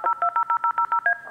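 A telephone keypad sends about ten quick DTMF tones in an even rhythm, each beep short and clear, dialed during a phone call with no voices over them.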